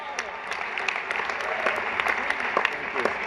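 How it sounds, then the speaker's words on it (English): Steady audience applause fills the room at a moderate level, dense clapping with scattered louder claps and no clear voices over it. "Can we have a round of applause for Chuck Schumer?"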